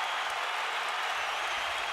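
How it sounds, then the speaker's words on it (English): Arena crowd at the Sergey Kovalev vs Andre Ward boxing match roaring and applauding, a continuous dense wash of noise with no breaks, moderately distant. "Crowd loves it."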